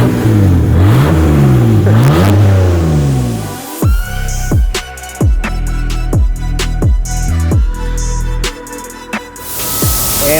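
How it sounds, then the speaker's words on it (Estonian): A car engine revs hard as the gas pedal is pressed, loud close revs rising and falling, then a rapid series of sharp stuttering bursts and pops. "Prems, vajuta gaasi."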